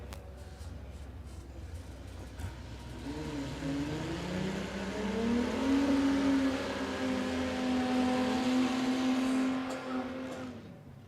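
Drag racing cars, including a BMW in the left lane, accelerating down the strip at Warwick Dragway, a sustained rising engine drone that swells and holds before fading, heard from a distance.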